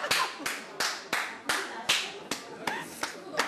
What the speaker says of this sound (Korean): 크게 박수 치면서.